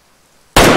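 A single hunting rifle shot in the game Way of the Hunter bursts out after near silence, a sudden loud broadband crack that stays sustained to the end.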